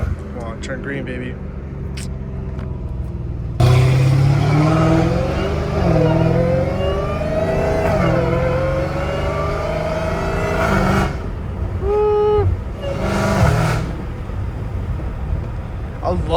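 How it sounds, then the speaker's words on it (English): A Dodge Hellcat Redeye with a catless exhaust roars loudly as it accelerates hard from inside the cabin, its pitch climbing and dropping through shifts, and people talk over it. "I love this the way the engine shifts, bro."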